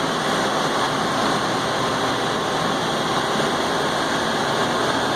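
A Haas VF-2 CNC milling machine's spindle runs at high speed, around 7,000 RPM, with a chamfer mill, giving a steady, loud, continuous whir and hiss with no break and no voices.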